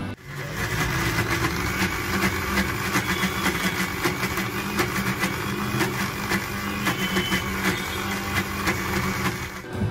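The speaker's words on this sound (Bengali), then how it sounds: "এবার সবকিছু খুব ভালো করে ব্লেন্ড করে নিতে হবে।" A blender whirs continuously, blending egg mayonnaise with lemon juice; the motor hum is steady and fairly loud throughout, with no speech.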